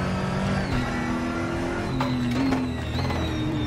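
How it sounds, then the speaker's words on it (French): A car engine revving and accelerating while driving, a loud continuous drone that rises in pitch as the throttle opens, heard from inside the vehicle with no speech. "Je réaccélère trop vite"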